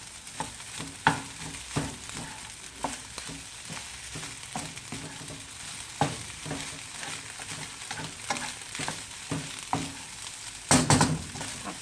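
Carrot, bell pepper and tomato are stir-fried for egg and grilled chicken fried rice, with a steady close sizzle under repeated scraping and tapping of a spatula against the pan, and a louder clatter near the end.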